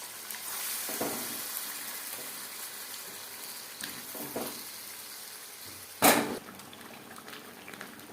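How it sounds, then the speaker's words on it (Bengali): Marinated chicken hits hot refined oil and melted butter in a pan and fries with a steady, close hiss, broken by a few louder crackles and bursts of sizzle. "রিফাইন্ড অয়েলের সাথে বাটার বেশ ভালো করে মেল্ট করে নেওয়ার পরে দিয়ে দেবো ম্যারিনেট করে রাখা চিকেন"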